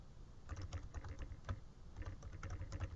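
Quick keystrokes patter steadily on a computer keyboard as a file name is typed, a close run of light, irregular clicks with no talk.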